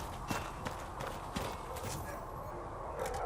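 Horse hooves clip-clop near the stables in the fantasy game Dragon Age Inquisition, a steady run of light knocking steps over a soft ambient background.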